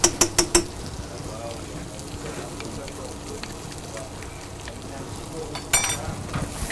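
Rice toasting in hot oil in a pan, a steady close sizzle and crackle with a few sharp scraping clicks at the start and later.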